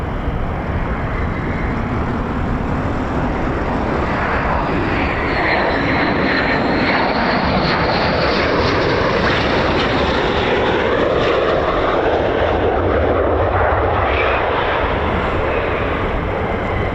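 Military fighter jets, F-15s and F-35s, landing at RAF Lakenheath with aero braking, a continuous loud, broadband engine roar that fills the whole stretch without a break.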